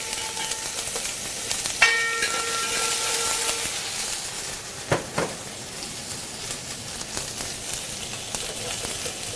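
Vegetables hit a hot pan with ginger garlic paste during a home cooking session, giving a steady broadband sizzle and hiss that runs throughout, with a few clattering knocks and a brief tonal ring early on.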